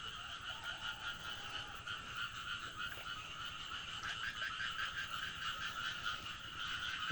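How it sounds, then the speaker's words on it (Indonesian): Frogs croak steadily in a dense chorus from floodwater around a flooded transmigration settlement, a continuous layered trilling with no voices over it. "Terdengar suara kodok ya,"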